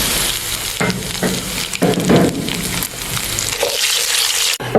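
Peppercorns, long chillies, curry leaves and cumin crackle and sizzle in hot oil for a dhaba-style kadhi tadka, a dense close frying hiss with intermittent sharper pops and spoon stirring, no talk.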